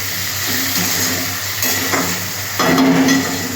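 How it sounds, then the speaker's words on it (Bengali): Tomato and onion sizzle steadily in a pan for a fish curry with pumpkin and potato, a continuous close frying hiss broken by a few stirring scrapes and clinks. "টমেটোটা একটু ভাজা ভাজা হোক, গলে আসুক"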